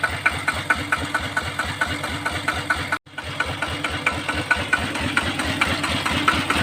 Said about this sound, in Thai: เดี๋ยวจะมาลองติดเครื่องแล้วก็ลองเล่นเครื่องให้ดูนะว่า อัดสุดๆว่าจะเป็นเสียงเขาเป็นยังไงนะ